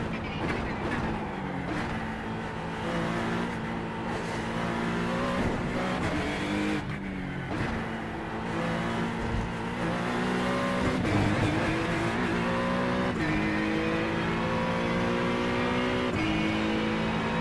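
Race car engine in the iRacing sim racing game, droning steadily for the whole stretch with rising and falling revs and repeated gear shifts, loud and continuous with no talking.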